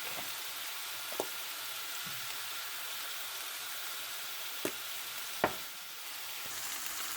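Pork chops brown in a hot frying pan, giving a steady, even sizzle throughout with a few sharp pops and utensil clicks.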